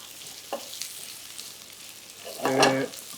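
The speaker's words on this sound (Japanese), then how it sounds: "さっと炒まりましたら、ここに玉ねぎを入れます。" Onions added to a pan with butter or olive oil, giving a soft, faint sizzle with a couple of brief clinks and scrapes. Near the end a short louder tonal sound, like a voice or utensil ring, briefly rises over it.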